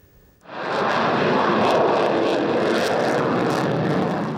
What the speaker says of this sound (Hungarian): Egy szimulált, azaz tangóriasztás miatt emelkedtek ma levegőbe a kecskeméti Gripenek.